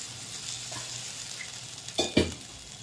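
Eggplant being stirred and cooked in a pan for a spicy Marathi-style vegetable dish, with a soft steady sizzle and a couple of brief scraping clanks of a spoon against the pan near the end.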